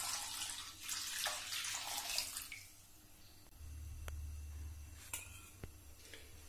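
Water is poured from a vessel into a kadhai in a home kitchen, a splashing stream for a couple of seconds followed by a low steady hum and a few faint clinks and knocks.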